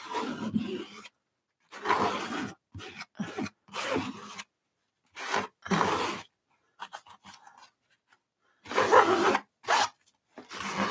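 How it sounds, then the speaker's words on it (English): Excess gesso is scraped off an art surface in a series of rough, raspy strokes, each about half a second to a second long with short pauses between, fairly close and clear. "I hope you all can bear with that scraping sound."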